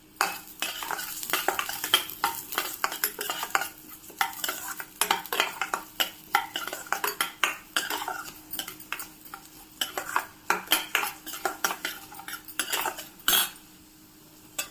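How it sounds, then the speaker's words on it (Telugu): Coriander seeds dry roasting in a pan on a low flame are stirred continuously, producing rapid rattling, scraping clicks of seeds and spoon against metal, close and busy with brief pauses. "వీటి తర్వాత కొంచెం ఈ ధనియాలు కొంచెం వేపుకోవాలి,"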